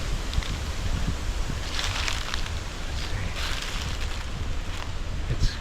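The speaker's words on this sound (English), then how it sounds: "It's really windy." Strong wind gusts across a farm during a small game hunt, a rough, rushing roar that swells and eases in several surges, with buffeting against the microphone and no talking.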